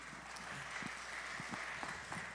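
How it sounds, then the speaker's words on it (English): Applause from the audience at a community town hall with police chief finalists, a fairly faint, diffuse patter of clapping sustained through the whole moment. "Give her another round of applause."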